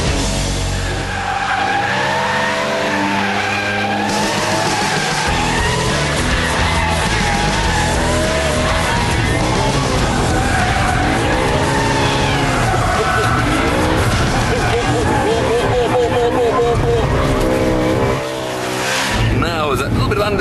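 A new BMW M3 set to its most extreme handling mode pushes into a corner, tires squealing and skidding loudly while the engine drones steadily beneath, with someone talking over the continuous noise.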